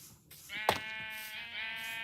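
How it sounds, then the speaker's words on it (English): A sheep in the Minecraft video game gives a single clear, nasal bleat, close and moderately loud against a quiet background. "There are sheep below."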